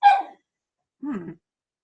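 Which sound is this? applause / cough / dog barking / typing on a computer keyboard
dog barking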